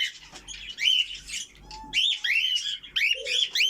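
Pair of lutino lovebirds chirping inside a cage, with bursts of close, shrill chirps and squawks repeating in quick clusters with short pauses between them.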